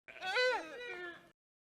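A deer gives one drawn-out, quavering bleat lasting just over a second, close and alone, trailing off into silence.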